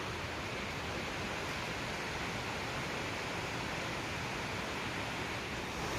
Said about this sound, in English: pretty massive waterfall off to my right here